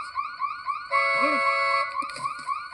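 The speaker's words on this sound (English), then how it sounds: "Let me turn off the alarm." A car alarm wails nearby in rising, repeating electronic tones that shift pattern partway through, with brief shouting voices mixed in.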